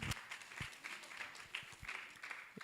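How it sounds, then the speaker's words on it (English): An audience at a Kenyan pre-summit session gives a round of applause, a steady wash of many hands clapping in a meeting room, moderately loud and continuous for a few seconds. "him a round of applause again"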